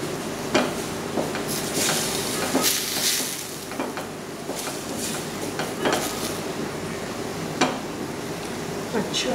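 Chicken mince cooking with red chilli flakes, salt, garlic and ginger in a pan, with a steady sizzle broken by repeated scraping stirs and a few sharp clinks of the spoon, heard close up.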